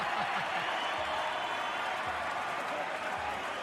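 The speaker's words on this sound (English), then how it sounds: "And the crowd like it." Football stadium crowd during an A-League semi-final between Central Coast Mariners and Adelaide United, a broad steady roar with scattered applause at a substitution, under a commentator talking.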